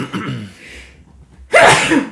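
A person sneezes loudly and close by, preceded by a sharp intake of breath and some brief vocal sounds.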